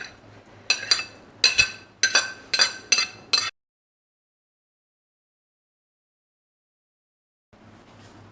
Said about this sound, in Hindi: ये जो वेजिटेबल्स हमने फ्राई करके रखी थी ये डाल देंगे इसमें